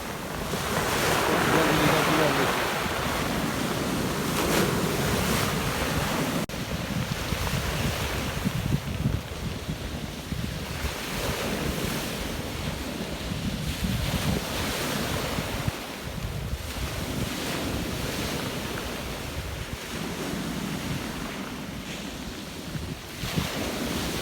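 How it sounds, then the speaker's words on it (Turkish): Sea waves wash and break on a cool day along a rocky fishing shore, a steady loud surf roar with wind buffeting the microphone throughout and no talk. "Biraz dalga güzel bugün."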